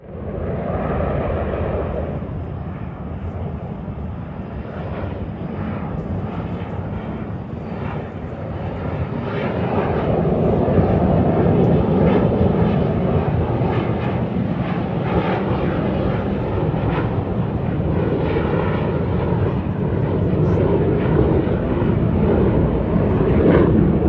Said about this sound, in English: We love the sounds of the big jets. And you can literally see them flying by.